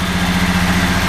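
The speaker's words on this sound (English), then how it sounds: "You can hear the engine. Runs good, strong engine." A supercharged 1941 Graham Hollywood car engine runs steadily at idle, a close, continuous low rumble with an even pulse throughout and no talk.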